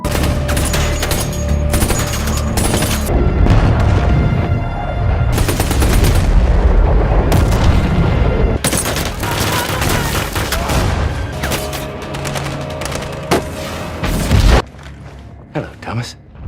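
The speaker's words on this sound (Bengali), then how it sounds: "তাদের উপর অনবরত গুলিবর্ষণ করতে থাকে" Sustained bursts of rapid gunfire with booms, loud and continuous, overlaid with dramatic music and a voice talking over it.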